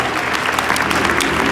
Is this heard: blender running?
no